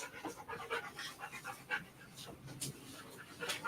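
A dog aboard a boat pants noisily and close by, with quick, rhythmic huffing breaths that carry on steadily throughout.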